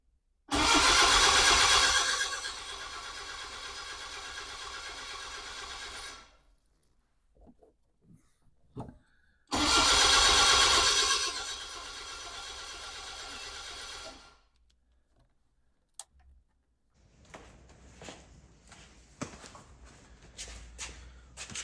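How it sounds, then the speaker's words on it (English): A car engine cranks hard on choke in two long bursts separated by silence, each loud and steady before cutting off, followed by quieter shuffling and handling sounds; no one speaks. "So I'm just going to go crank her over and hopefully it'll work."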